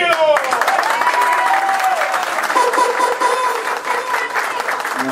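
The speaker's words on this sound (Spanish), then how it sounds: "¡Aplausos a Cirilo!" Crowd at a Dominican political gathering applauding for Cirilo, steady clapping mixed with cheers and voices that carry a sung or shouted tone throughout.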